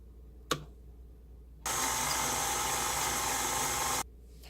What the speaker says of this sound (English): Next, I'm going to add the egg one at a time and then blend it.